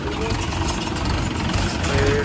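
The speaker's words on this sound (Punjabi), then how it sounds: "ਚੱਲ ਰਿਹਾ ਟੈਸਟਿੰਗ ਬੇਲਰ ਦੀ" A tractor engine drones steadily with a tractor-driven baler rumbling nearby during testing, while people talk over the noise.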